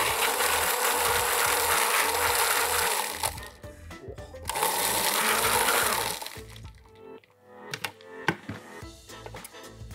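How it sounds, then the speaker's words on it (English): A countertop blender whirs in two loud bursts while mixing a creamy tiki-style cocktail, each pulse a few seconds long, followed by quieter clinks and clatter of glassware. "So a couple quick pulses on the blender"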